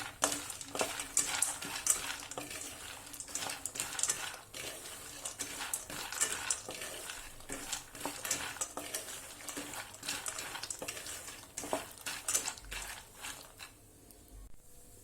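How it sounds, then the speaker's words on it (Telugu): Cashews and almonds fry in ghee while a spoon stirs them steadily, giving a continuous close crackle with frequent scraping strokes against the pan throughout. "ఇందులో మనం జీడిపప్పు అండ్ బాదాం వేయించుకుందాం. ఫ్రై చేసుకుందాం ఘీలో."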